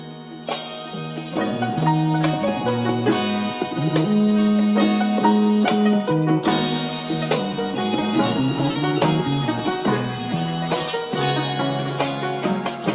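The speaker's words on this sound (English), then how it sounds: "the piano and the sample together sound like this" Piano chords blend with a looping soul sample, a dense, warm musical bed with steady rhythm and no speech, playing throughout.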